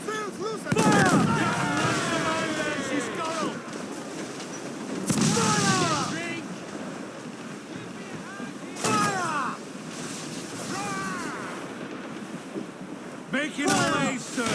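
Ship cannons firing in a naval battle in the video game Assassin's Creed 4: Black Flag: four heavy booms spaced several seconds apart over a steady bed of wind and sea, with shouted voices in between.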